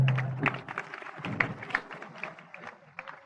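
An audience at a satsang claps in quiet, scattered bursts of hand claps heard at a distance, with some talk mixed in.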